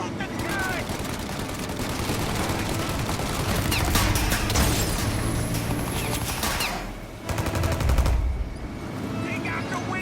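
A heavy shootout in the video game Mafia: Definitive Edition, with dense machine-gun fire and rapid gunshots crackling almost without a break. A brief lull is followed by another loud burst, and voices speak over the fire.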